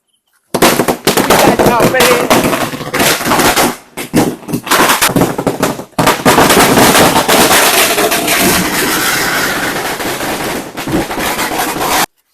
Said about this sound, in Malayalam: ഗുണ്ട് രണ്ടും പൊട്ടി